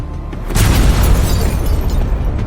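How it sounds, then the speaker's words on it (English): A deep, loud explosion sound effect in a fantasy action narration, a sudden booming blast that rumbles on without fading and shows no talking. "With a follow-up explosion, Fenya shattered them all."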